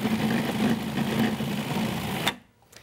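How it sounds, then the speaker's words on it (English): A food processor whirs steadily as it mixes passatelli dough into a ball, a loud even motor drone that cuts off abruptly near the end. "put this on and whirl that up till it forms a ball"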